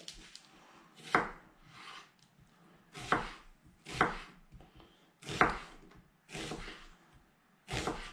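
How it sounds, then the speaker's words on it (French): A knife cuts a peeled onion into thin slices on a board, with about seven firm, close thuds spaced at uneven intervals and soft scraping between cuts. "Voilà, des fines tranches comme ça."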